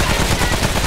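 Dense, continuous rapid gunfire from the video game Remnant from the Ashes, a loud unbroken burst of automatic shots that fills the whole moment without a pause.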